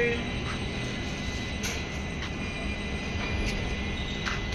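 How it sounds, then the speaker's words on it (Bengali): A passenger train standing at Birur station on the Yesvantpur–Vasco route, giving a steady low rumble with occasional brief squeals and clanks, fairly close, with platform murmur in the background. "ট্রেন এসে থামলো বীরু স্টেশনে।"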